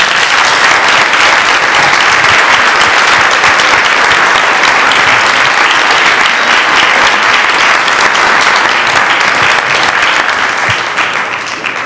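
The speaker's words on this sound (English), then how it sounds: "I'd also like a round of applause for our great panel." An audience at a design awards panel gives sustained, loud, dense applause that fills the whole stretch and tapers slightly at the very end.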